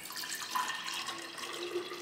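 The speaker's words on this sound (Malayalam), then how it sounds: "തണുത്തു കഴിഞ്ഞ വെള്ളം നമ്മൾ ഈ ഗ്ലാസ് ഒരു ജഗ്ഗിലേക്ക് മാറ്റുവാണ്" Cooled hibiscus water is poured from a glass into a jug, making a soft, steady trickle of liquid that runs for about two seconds with no talking.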